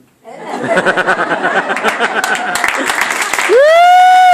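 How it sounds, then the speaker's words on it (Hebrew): Audience applause at a stand-up comedy show, steady close clapping mixed with laughter and chuckles, ending in a loud rising whistle or whoop. "מחיאות כפיים ולתמר."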